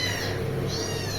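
A pet cat meows close by, one drawn-out, wavering call that rises toward its end and fills the whole moment, with no talking over it.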